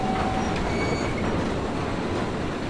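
A steam locomotive pulls a goods train through a hot summer day at a heritage line yard in Train Simulator Classic, giving a steady close rolling rumble and hiss with faint wheel squeal and no voices.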